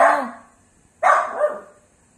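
Two sharp dog barks, each a loud yelp that trails off, separated by about a second of quiet.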